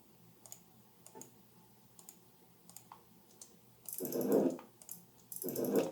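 A gear ticking ramp sound effect from a stock library: soft mechanical clicks spaced irregularly at first, then two louder, fuller swells near the end, heard alone without any talk.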